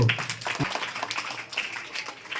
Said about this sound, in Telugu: ఒక్కసారి అందరూ చప్పట్లతో